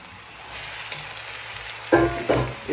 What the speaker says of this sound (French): d'abord bien mélanger avec l'huile d'olive et les oignons, tranquillement